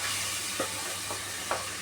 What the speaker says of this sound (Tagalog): Igigisa na natin yung tuna sa sibuyas